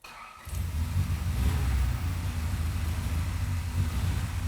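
A Honda Civic engine cranks as the key turns, then catches and settles into a steady low rumble that runs on evenly, close by.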